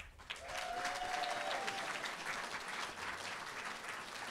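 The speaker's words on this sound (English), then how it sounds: "can we have a massive round of applause for everyone who's done a sterling job on the light" Audience applause at a college show, a soft, distant ripple of clapping from the crowd that swells after a moment and holds steady to the end.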